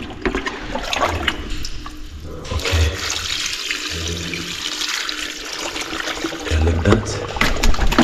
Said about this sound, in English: Let us do some amazing watering.